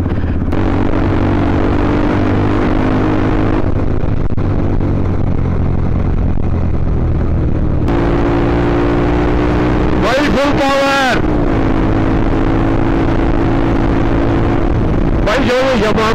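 A motorcycle engine drones steadily while riding through Kashmir, its close, continuous hum shifting in pitch, with a short sweeping rise and a brief passing sound partway through.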